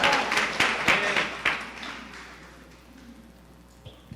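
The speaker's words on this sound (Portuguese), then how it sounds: "Você que crê nisso, aplauda o Senhor nesta manhã" Church congregation clapping during a Sunday morning service in Rio de Janeiro, a burst of applause that is loud at first and then thins and fades over a few seconds, with scattered isolated claps near the end.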